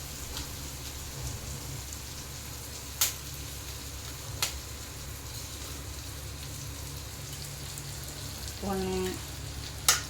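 Eggs for homemade kothu parotta are poured into a hot pan, where they set up a steady, quiet sizzle. A couple of sharp taps cut through it, and a brief faint tonal sound rises near the end.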